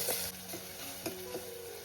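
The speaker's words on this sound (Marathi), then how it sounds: "आता एकदा हळून घेते. छानपैकी परतवून घ्यायचं." Onion and tomato, salted early, sautéed and stirred in a pan for a Konkani mandeli fish saar with raw mango, giving a steady close sizzle with a few soft scraping strokes and no talk.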